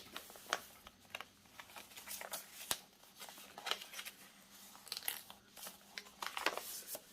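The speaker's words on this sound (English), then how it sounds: "It's just a coffee stained little piece, and I'm going to fold it so that it's kind of like an envelope." A small coffee-stained scrap of paper is folded into an envelope shape, giving faint, close crinkles, creases and soft rustles in irregular bursts with no talk.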